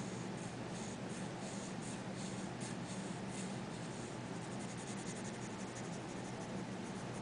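Continuous soft scratchy rubbing of pencil strokes on paper, close and steady with a faint repeating rhythm, no voices.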